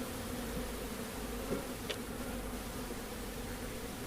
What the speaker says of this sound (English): As you can see, we've now got a lot of bees flying around.